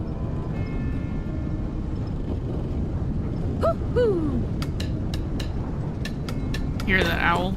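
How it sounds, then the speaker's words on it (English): An owl hoots a few times in the Tales of Arise game world, soft tonal calls over a low steady ambient rumble, followed by brief ticking clicks and a chirpy flourish. "Hear that owl?"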